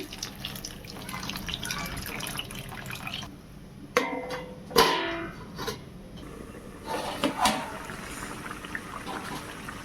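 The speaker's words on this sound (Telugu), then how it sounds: "చింతపండు నీళ్ళు పోసుకోవాలి" Tamarind water is poured into a simmering vada curry in a home kitchen. Soft pouring and splashing comes in two short bursts over a quiet bubbling background, close and moderately faint, with no speech.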